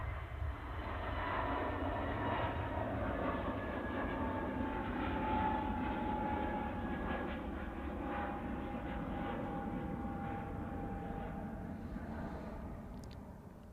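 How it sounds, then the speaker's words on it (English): An Egypt Air Airbus A321 begins its takeoff roll at Manchester Airport, its engines building into a sustained, distant roar with a droning whine that holds steady and then slowly fades toward the end. "Next out is the gorgeous Egypt Air, returning to Cairo. Aircraft arrived about an hour or so ago, and it's just starting its takeoff roll."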